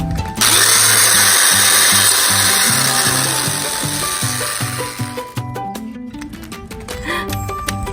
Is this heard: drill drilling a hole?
yes